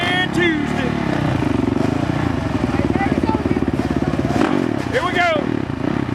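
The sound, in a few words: motorcycle riding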